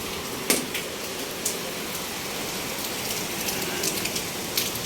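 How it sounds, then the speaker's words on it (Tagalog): Heavy, unceasing rain pours down steadily on an outdoor surface as a dense, even wash of noise, with a few louder drops or splashes standing out now and then. "Sobrang maulan. Walang tigil."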